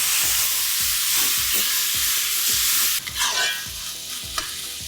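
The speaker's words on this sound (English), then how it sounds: "Now add 2 tomatoes that are sliced. And cook till the tomatoes are done." Sliced tomatoes frying in a pan with a steady loud hiss and a spoon scraping the pan in regular strokes, close up, no voices.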